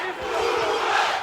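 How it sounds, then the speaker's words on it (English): A crowd at a bare-knuckle boxing event chants for Uruguay in support of heavyweight fighter Gaston Reyno, a loud, massed rhythmic roar of voices filling the arena. "Chant of Uruguay in support of Gaston Reyno."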